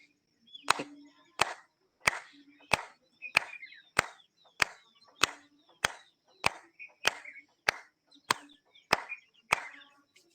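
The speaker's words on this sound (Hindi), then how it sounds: "अब ताली बजा लेते हैं, हथेलियों के पॉइंट दब जाएं" Palms clap together in a steady series of about fourteen sharp, close claps during a yoga session, evenly spaced roughly every 0.7 seconds, with a faint low hum between them.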